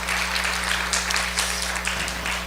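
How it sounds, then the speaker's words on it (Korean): Church congregation applauding a visiting pastor after his sermon, a steady dense clapping that fills the whole stretch over a constant low hum. "우리 박원 목사님께도 감사의 박수 드리도록 하겠습니다"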